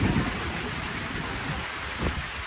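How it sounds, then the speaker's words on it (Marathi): Dense, steady rush of heavy rain with wind pouring down at Shiv Khori, broad and continuous with no voices, a slight swell near the end. "पाऊस वारा खूप पडलेला आहे, खूप पाऊस आलेला आहे."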